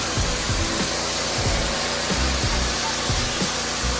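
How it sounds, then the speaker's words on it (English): A pressure washer sprays plywood inside an old enclosed car trailer, giving a steady, loud hissing roar with a faint motor pulse underneath that runs without a break. "So Sherry's gonna jump on the pressure washer."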